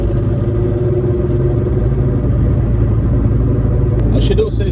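Cabin of a VW Rabbit pickup with full sound deadening and the windows up, driving with a steady low engine and road rumble that holds throughout, ending in a short thump and brief chirping noises.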